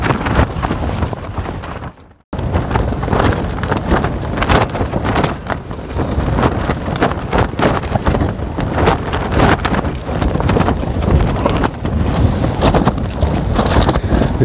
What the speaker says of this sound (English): This wind is relentless.